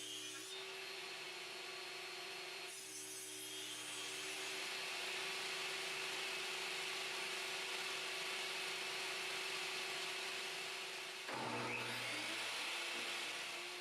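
A table saw cuts notches into wooden boards for a heirloom game case, a steady loud whir with a tonal hum that runs throughout, briefly dipping and pausing near the end before spinning back up.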